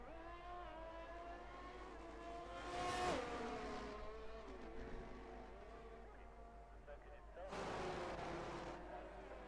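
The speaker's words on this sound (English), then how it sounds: "We can hear Bartek's engine in the background." Ferrari-engined race car in a racing video game at a Mexico track, its engine humming faintly in the background under talk, rising to two brief, louder revving swells.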